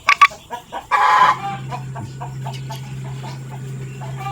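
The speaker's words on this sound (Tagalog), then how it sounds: "Ito yung isa kong makulit na layas na bibe" A restless, stray muscovy duck by a freshly cleaned riverbank gives a few short, close calls and one longer burst, then quiets over a steady low hum.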